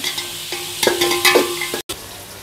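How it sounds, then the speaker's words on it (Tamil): Crushed garlic sautéing in a pan for mutton curry, a steady close sizzle with a few stirring scrapes, then a brief cut to silence before the sizzle resumes. "இப்போ தட்டி வச்ச பூண்டையும் போட்டுக்கலாம். போட்டு எல்லாத்தையும் ஒன்றா வதக்கி விடுவோம்."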